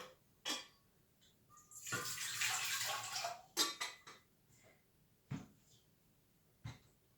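Water is poured into a bowl of dough ingredients with salt and cheese for a Turkish cheese pastry, a broad splashing pour lasting about two seconds, followed by a few short clinks and taps of a container, close and fairly quiet, with no talking.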